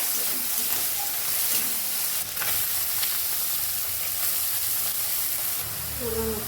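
Pea greens sizzle steadily in hot oil in a pan with a fish head, green chilli, salt and turmeric, a continuous close frying hiss with occasional stirring scrapes.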